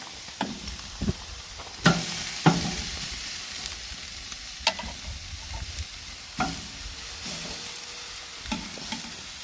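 Meat searing on a very hot stove, with bursts of sizzle and sharp crackles and pops arriving irregularly over a steady background hiss, close and fairly loud, with no one talking.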